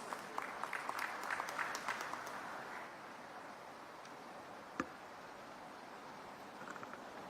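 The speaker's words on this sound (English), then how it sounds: "Let's all together welcome him with a thunderous round of applause" Applause from a conference audience at India Chem 2024, clapping fairly quietly and fading into a steady murmur of room noise, with a single sharp knock partway through.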